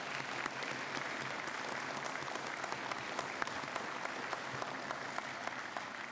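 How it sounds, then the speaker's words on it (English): Steady applause from a graduation ceremony audience honoring the graduating seniors, a dense, even wash of clapping that holds at a moderate, somewhat distant level throughout without pause. "I think that they deserve a quick round of applause for everything they've done."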